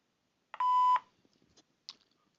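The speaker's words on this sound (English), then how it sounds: "at the sound of the tone, you'll need to leave a message" A phone answering system sounds a single steady beep tone of about half a second, clean and alone, followed by faint clicks.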